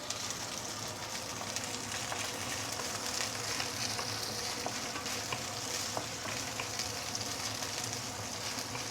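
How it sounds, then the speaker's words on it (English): Fresh herbs and shallots sauteing in hot oil in a wok, a steady close sizzle and crackle that holds at an even level throughout with no talking. "Once you have heated up the oil, we'll put in the fresh herbs. Saute this for a minute or two before we continue."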